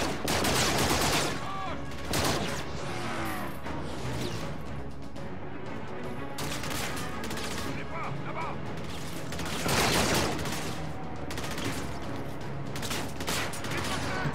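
Bursts of futuristic gunfire in Call of Duty: Infinite Warfare crackle in repeated rapid volleys with crashes and explosions over game noise, loud throughout with brief pauses.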